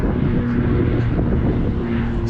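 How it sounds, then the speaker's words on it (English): Low continuous rumble of an airplane passing overhead while a runner is out on a road, steady broadband roar with wind buffeting, fairly loud and heard alone. "Oh, there's a plane."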